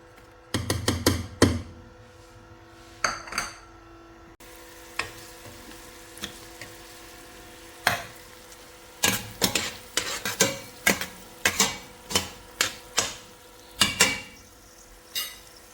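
Onions cook in a pan with butter, olive oil and ghee, and a utensil clatters and scrapes against the pot in quick bursts and steady strokes over a faint sizzle, close up.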